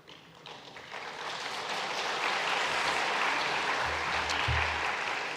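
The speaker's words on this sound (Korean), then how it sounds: "잠깐 자리에서 일어나시면 우리 큰 박수로 환영하겠습니다." A church congregation at Sunday service breaks into applause to welcome visiting family members, swelling from scattered claps to a dense, sustained wash of clapping in the hall, with a brief low murmur near the end.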